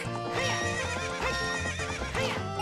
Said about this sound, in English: Yeah, now that's a horse.